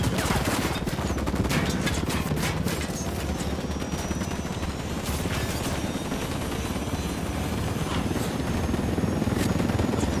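Ghost Recon Wildlands combat: a helicopter's dense rotor roar fills the scene continuously while rapid bursts of gunfire crackle throughout, loud and close.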